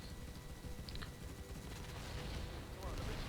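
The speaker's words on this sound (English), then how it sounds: "An explosion hitting a noob, destroying him." Explosions and gunfire from a multiplayer zombie shooter match: steady dense low rumbling blasts and crackling fire throughout, with faint chirps on top.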